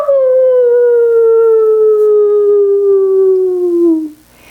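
A voice imitates a wolf howling at the moon during a preschool space-themed yoga game, one long sustained howl that slowly falls in pitch over about four seconds, loud and close, then cuts off.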